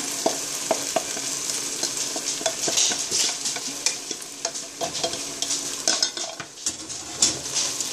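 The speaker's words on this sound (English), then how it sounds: "And mix it all together with the vegetables." A utensil stirs cooked quinoa and vegetables in a pan, scraping and clinking in an irregular rhythm over a soft sizzle, close and moderately quiet.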